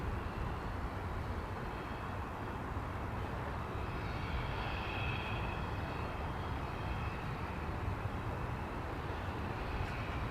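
A jet airliner at DFW Airport turns onto runway 18 left with a steady, loud engine roar that holds unbroken and fairly close for the whole stretch.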